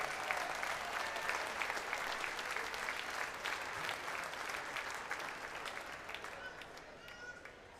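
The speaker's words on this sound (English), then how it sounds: "round of applause." Audience applause for the six open-final competitors at the Balmoral Show sheep shearing contest, a steady crowd-wide clapping that holds strong and then slowly thins toward the end, with some background voices.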